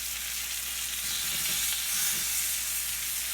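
Rockfish pan-searing over high heat gives a steady, loud, even sizzle and hiss that carries on unbroken throughout, with no one speaking.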